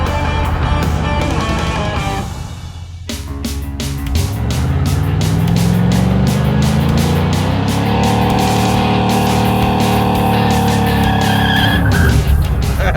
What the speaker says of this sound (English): Only spins the right side tire.